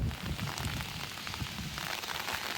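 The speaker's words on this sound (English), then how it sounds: "It's raining again." Steady rain falling outside a crafting studio, a continuous close hiss with scattered drops pattering on a surface, heard alone without talking.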